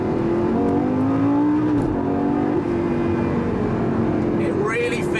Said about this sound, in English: Those gear shifts are so fast,